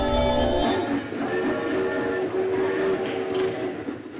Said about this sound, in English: Look, there's a train over there.